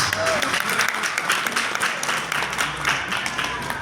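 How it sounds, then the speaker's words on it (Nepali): Audience applause fills a hall at the Nepal Film Artists Association's 20th general assembly and award ceremony, with dense, steady clapping that holds throughout at a fairly loud level. "कृपया दिल खोलेर ताली बजाइदिनुहोस्।"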